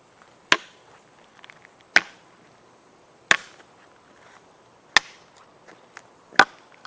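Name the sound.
metal stick tip hitting stone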